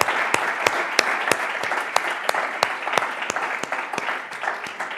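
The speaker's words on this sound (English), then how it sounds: "Please join me in applauding our minister" An audience at a policy conversation event applauds a minister, steady hall clapping with distinct sharp claps standing out near the microphone, continuous throughout.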